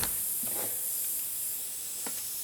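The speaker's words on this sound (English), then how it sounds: "Let me put a little WD-40 on there." WD-40 sprayed onto the tire bead of an antique farm wagon wheel, heard as a few short, close hissing bursts of aerosol spray over a steady background hiss.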